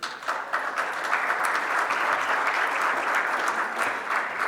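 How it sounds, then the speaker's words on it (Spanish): A conference audience breaks into sustained, fairly loud applause, the dense clapping holding steady throughout with no voices over it. "le vamos a dar un fuerte aplauso"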